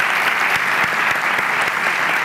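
Steady, dense applause from a studio audience on a Turkish comedy talk show, loud and continuous with no break, many hands clapping together.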